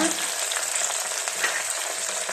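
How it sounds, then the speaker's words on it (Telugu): Curry leaves and coriander fry in hot oil, giving a loud, dense, continuous sizzle close up with faint stirring beneath it. "ఇవన్నీ బాగా వేయించుకోండి"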